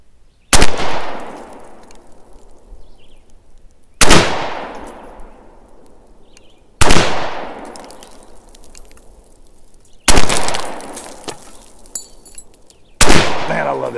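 Rifle fitted with an optic and backup iron sights fired at an outdoor range, five loud sharp shots spaced a few seconds apart, each with a decaying echo tail, no talking between.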